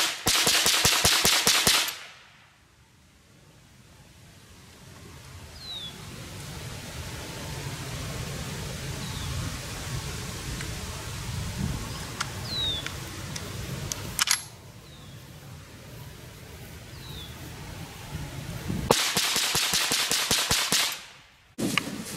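Rapid handgun fire at a shooting range, loud sharp bursts of shots clustered at the start and again near the end, with a quieter stretch of outdoor background between them.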